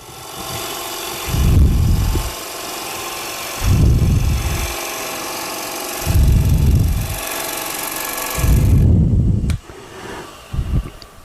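A wood lathe turns a bowl as a Hunter Hercules carbide tool cuts, with four loud rising bursts of rushing cutting noise separated by quieter steady motor hum, close up, ending in a few short scrapes.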